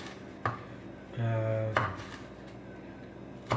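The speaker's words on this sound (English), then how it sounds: "Me here chopping up some veggies." Veggies being chopped with a knife on a board: a few sharp, scattered chops with a sustained kitchen hum midway, fairly quiet and close, with no talking.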